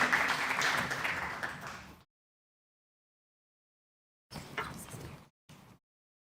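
Audience applause at an Islamic psychology symposium, a dense burst of clapping for about two seconds that cuts off abruptly, followed after a silent gap by two shorter noisy bursts.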